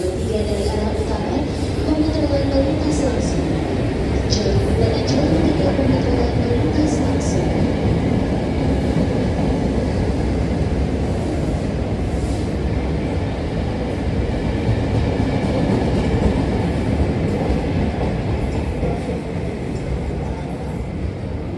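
Train rumble and steady rail noise fill the platforms at Gambir station in Jakarta, a dense, continuous station roar with voices mixed in throughout.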